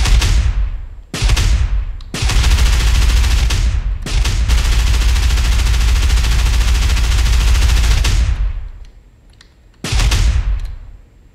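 A fictional Carbondopher engine of the kind that powers a sand cruiser, fired up with loud explosive bursts that merge into a sustained roaring blast, cutting out twice briefly and fading near the end before one last burst.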